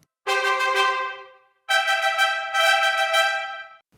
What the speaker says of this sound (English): the trumpet then takes on a rhythmic driving pattern,